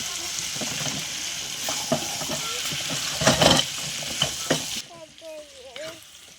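Peas and boiled potatoes frying in a pan for aloo dum, a steady sizzle with stirring clatter for most of the time before the sizzle drops away and a voice speaks briefly near the end.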